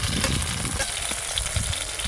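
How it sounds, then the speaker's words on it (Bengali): Eggplant slices frying in oil for a Bengali meal, a loud, dense, continuous sizzle with crackling bursts, heard close up and without talk. "বেগুনগুলো ভালো করে ভাজা হয়ে গেছে,"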